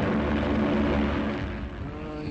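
Propeller aircraft on a search patrol droning steadily overhead, a continuous loud engine hum that eases slightly toward the end, with no voices.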